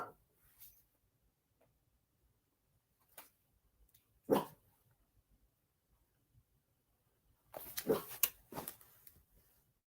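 Several dogs bark at a home during a live baseball broadcast, with a brief burst around the middle and a louder cluster of barks near the end, separated by quiet stretches.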